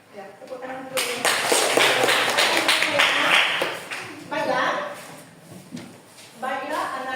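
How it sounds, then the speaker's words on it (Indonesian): Students in a classroom clapping for several seconds, a dense burst of hand claps near and loud, fading briefly then resuming toward the end. "Ya, tepuk tangan dulu"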